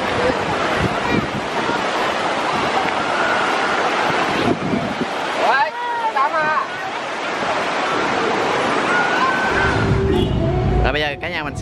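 Surf breaking on a beach at Vung Tau, Vietnam, a loud continuous wash of waves mixed with wind buffeting the microphone, with people's voices and beach chatter audible throughout.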